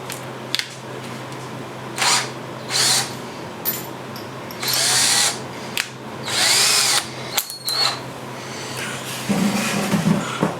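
Power drill with a 6 mm bit boring into a stripped cylinder head bolt on a Geo/Suzuki engine, in several short whining bursts separated by pauses, close and fairly loud over a low steady hum.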